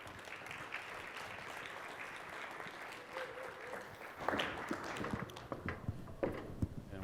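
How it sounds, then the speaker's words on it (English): A conference audience applauds panel guests taking the stage at a discussion on the future of grading, with faint, distant clapping and scattered louder claps and shuffling footsteps joining partway through. "So please give them a round of applause."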